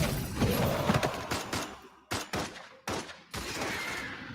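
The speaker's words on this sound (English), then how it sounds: "I'm shooting off a lot of bullets" Rapid gunfire from a combat video game: a dense fusillade of shots for the first two seconds, then several separate loud bursts with brief gaps between them, heard alone with no talk.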